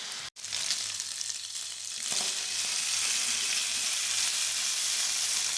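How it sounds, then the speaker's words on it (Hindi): Chicken pieces frying in a pan for a white sauce pasta, a steady close hiss and sizzle with a brief stirring clatter near the start and a low hum underneath, no talking. "तो अब चिकन को हम अच्छी तरह से कुक कर लेंगे।"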